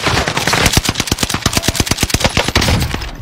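Rapid automatic gunfire in a battle royale video game rattles off in a loud, close burst of about twenty shots over a few seconds, with no talk over it.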